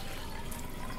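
Beef broth pours from a carton into a crock pot for stuffed pepper soup, a brief, steady, close liquid stream with no voices.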